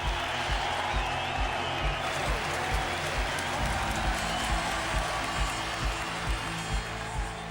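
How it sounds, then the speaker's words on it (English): Motor-racing crowd cheering a Williams driver, a loud continuous roar of many voices and clapping with rhythmic low thumps beneath, steady throughout with no clear speech. "just listen to the crowd!"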